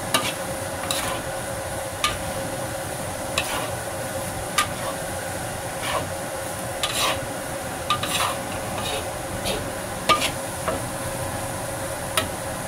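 Dried scallops fry in plenty of oil, a continuous soft sizzle near the mic punctuated by periodic light scrapes and taps of a utensil stirring them in the pan.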